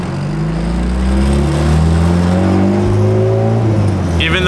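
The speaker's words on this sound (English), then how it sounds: "after doing a couple pulls, it's now idling under 1000 RPM." A Honda B-series car engine with a coil-on-plug conversion idles close by under 1000 RPM, its low drone slowly creeping upward in pitch, with a short hiss near the end.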